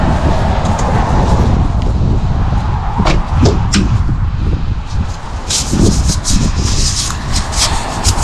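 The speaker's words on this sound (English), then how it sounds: "This is the first time I've used a paintbrush in the door jambs like this, and I like it." A paintbrush scrubs the door jambs of a very dirty Toyota Corolla, making continuous close rubbing and brushing with sharper scratchy strokes and a few brief knocks.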